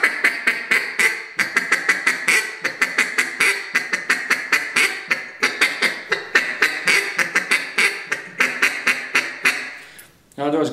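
A KES Waterfowl duck call blown in a rapid feed-call pattern, a long string of quick broken clucking notes in tight rhythm, loud and close, alone without talk.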